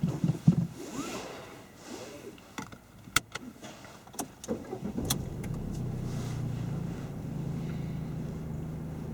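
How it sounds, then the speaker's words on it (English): A few sharp clicks and knocks, then an engine turns over and settles into a steady low idle hum close by. "If you want to start the car."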